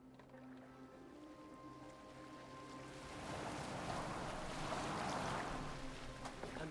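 A boat in Assassin's Creed Valhalla moves across the water, its hull hissing and splashing steadily under a low hum, growing a little louder partway through, with no speech.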